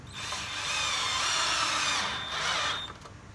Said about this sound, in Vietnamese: Mình sẽ chuyển qua chế độ bắn vít này.